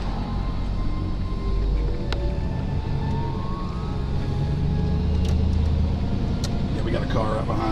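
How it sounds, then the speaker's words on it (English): A car drives close behind on a road, its engine and tyre noise a steady, continuous rumble throughout, with faint voices talking over it. "Car right behind us."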